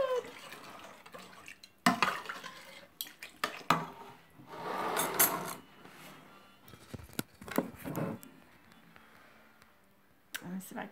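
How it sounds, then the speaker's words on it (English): A spoon stirs vegetable soup in a pot, with scraping and clinking against the metal and some liquid sloshing, close and moderately loud in bursts while a person talks nearby. "now let's stir that together"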